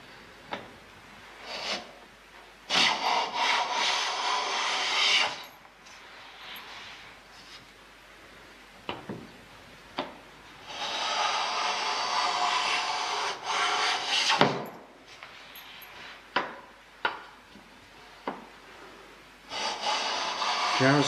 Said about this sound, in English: now I'm going to take a set of through shavings